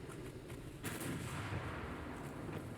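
Naval main guns fire in a warship battle in Ultimate Admiral: Dreadnoughts, with a heavy boom near the one-second mark over a steady low rumble of continuous distant gunfire and sea noise.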